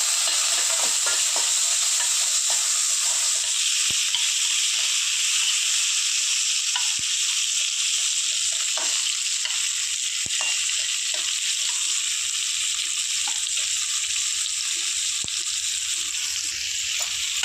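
Tomato and onion frying with cumin in a pan, being stirred. A loud, continuous close sizzle runs throughout with occasional scraping clicks from the stirring and no talk.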